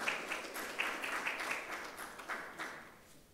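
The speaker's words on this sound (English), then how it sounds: "With a big round of applause, please." An audience at a marketing conference session in Sharjah applauds, a steady wash of many hands clapping that gradually fades out.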